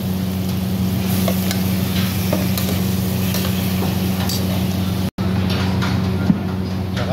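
Tomatoes sizzle steadily in a pan with onions that are already cooked, a constant close frying hiss with faint clinks and a brief break partway through.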